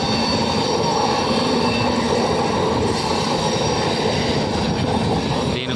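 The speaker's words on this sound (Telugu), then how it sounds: "అటు నుంచి ఏదో ట్రైన్ వస్తుంది, చూద్దాం పదండి." Another train passes on the adjacent track at night, heard from aboard an express near Vijayawada's outskirts: a loud, continuous close rumble of wagons with wheel squeal and rail clatter throughout, no talking.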